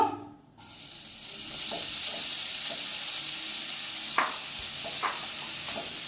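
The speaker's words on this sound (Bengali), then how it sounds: "এখন এর মধ্যে আমি গ্রেট করে রাখা গাজরগুলো দিয়ে দেব।" Grated carrots go into hot ghee in a kadai for an eggless carrot cake. After a brief quiet start, a steady sizzle rises, with occasional soft clicks of stirring over it.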